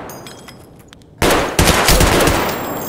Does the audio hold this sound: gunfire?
yes